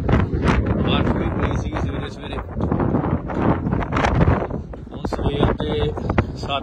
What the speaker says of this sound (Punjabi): ਹਵਾ ਬਹੁਤ ਜ਼ਿਆਦਾ ਵਗ ਰਹੀ ਆ